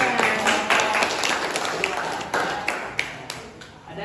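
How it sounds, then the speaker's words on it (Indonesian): A classroom audience in Indonesia claps, a burst of scattered, uneven hand claps that starts strong and gradually thins out, heard up close in a small room. "Tepuk tangan."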